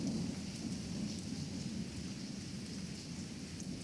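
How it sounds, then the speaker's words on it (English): Steady rain falls on the ground outside a window, a soft continuous hiss with dense pattering and a low rumbling undertone, even and unbroken throughout. "rain falls, the sound of rain falling on the ground."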